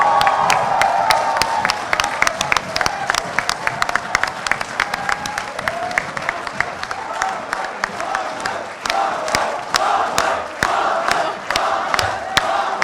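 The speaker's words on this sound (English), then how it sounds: "Give it a big round of applause for the President, Fahad Manzoor Ijaz." A crowd at a Model UN closing ceremony applauds and cheers for the president, with dense clapping and scattered whoops and shouts that continue strongly, rising again toward the end.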